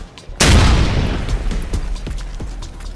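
A grenade blast in close combat: a sudden loud boom that rolls into a long rumbling decay, with a few sharp gunshot cracks scattered through the tail.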